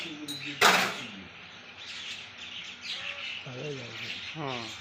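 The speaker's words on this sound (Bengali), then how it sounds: "অনেক পাখি তো" A flock of birds chirps and twitters continuously, with brief louder calls and a sharp burst near the start, while a voice speaks faintly at times.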